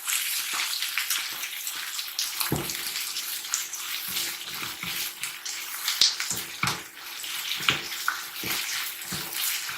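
Onions fry in a pan for kaara chutney, giving a steady, close hiss of sizzling oil broken by crackling pops throughout, with no voices.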